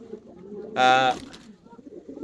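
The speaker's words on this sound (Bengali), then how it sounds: "এটা কি ভাই রানিং কবুতর তাই না?" A single fancy racing pigeon coo rings out clearly, close by on a pigeon farm, lasting under half a second, over a low murmur of background sounds.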